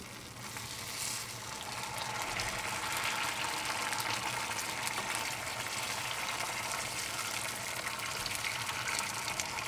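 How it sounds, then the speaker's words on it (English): Juice is poured into a pot of lamb and fava bean rice with a steady splashing gush that mixes with a hot, continuous sizzle, holding at an even level close by. "now adding some of this juice to it"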